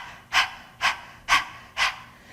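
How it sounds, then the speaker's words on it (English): Sharp, rhythmic panting breaths pushed out through the nose during a menopause yoga breathing exercise, four quick even bursts about half a second apart, close and clear with no talking. "it's kind of like if you want to practice panting like a dog"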